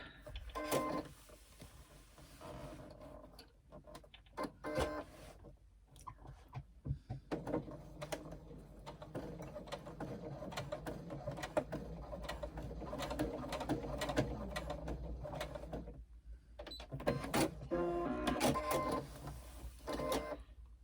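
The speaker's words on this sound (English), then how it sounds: "Now I'm going to baste that in place." A sewing machine bastes a fabric pleat in place with long uneven runs of mechanical stitching, pausing and restarting, close and moderately loud with no talking.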